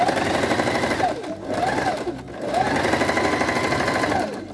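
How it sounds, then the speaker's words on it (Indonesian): A sewing machine stitches the side seams of child's trousers, running with a loud, rapid mechanical chatter that briefly slows twice before picking back up. "kanan kirinya kita jahit yang udah kita jelujur, lalu kita sambung bagian pantatnya ya"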